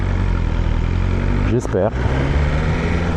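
A cold motorcycle idles close by with an even, low mechanical rumble, and a voice briefly says a word over it midway.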